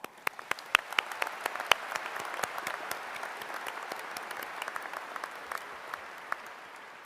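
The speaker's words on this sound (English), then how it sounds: "Please, a round of applause." Sustained applause from a large crowd at a spring 2024 college commencement ceremony, with dense steady clapping and a few sharper near claps standing out, continuing evenly for several seconds.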